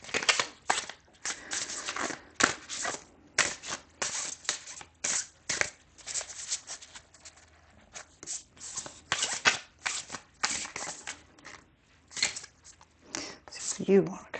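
Playing cards are shuffled repeatedly in close, crisp bursts of riffling and flicking, with short pauses between rounds and a brief voice near the end.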